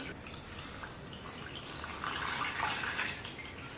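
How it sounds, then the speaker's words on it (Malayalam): Tender coconut water pours onto china grass in a bowl, a soft, faint liquid trickle that swells slightly toward the end, with no talk. "1 കപ്പ് കരിക്ക് വെള്ളമാണ് കേട്ടോ നമ്മള് ഒഴിച്ചു കൊടുക്കുന്നത്"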